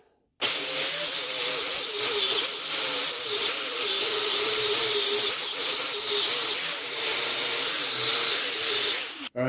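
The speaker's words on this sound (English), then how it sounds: "I'm going to wire wheel off all this paint because I don't like it" A wire wheel on a power tool strips paint off a hammer, grinding steadily and loudly for about nine seconds, a harsh broadband whine with a high squealing edge and no speech.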